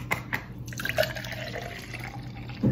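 Starbucks vanilla-flavoured iced coffee pours into a glass, a short liquid splash and trickle with a few small knocks, close and fairly quiet, no talk.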